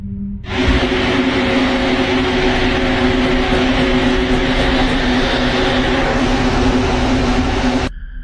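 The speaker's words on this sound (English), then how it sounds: "the subway train suddenly stops" A subway train runs with a loud, steady rumble and broadband roar for several seconds, then cuts off abruptly near the end, heard as playback.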